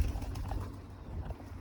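Pigeon cooing at close range, a few soft low coos over a quiet, faint background.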